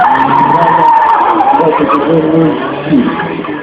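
A university-built car on a BMW 318 base skids at an autoslalom event in Ivano-Frankivsk, a loud, continuous tire squeal with engine drone, close and sustained, with voices in the background.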